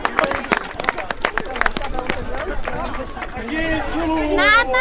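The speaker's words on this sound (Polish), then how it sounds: "Brawa dla burmistrza." Crowd at an outdoor playground opening and picnic applauds and cheers for the mayor, a dense burst of scattered claps over lively chatter and children's voices, with a whistle-like tone rising near the end.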